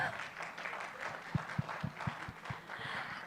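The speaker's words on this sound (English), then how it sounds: "I want you to clap as loud as you can." An event crowd claps as loud as they can, a broad wash of applause with a handful of sharp individual claps standing out, fairly brief and moderately distant.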